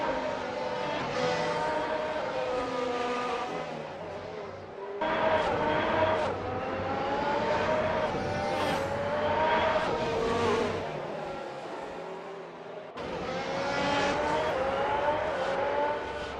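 Race cars roar around the track in an Assetto Corsa Spanish Grand Prix championship, engines whining and shifting up and down in pitch, swelling loud as they pass in waves with brief lulls between.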